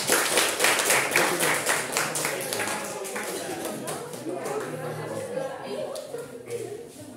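Students in a classroom clap for a presenting group, a close burst of clapping that starts strong and gradually tapers, with soft shuffling and faint voices mixed in underneath.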